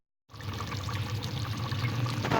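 Water from a glass pouring into a pot of peas, potato and carrot curry, a steady splashing stream that starts abruptly and carries on close and clear with no talking.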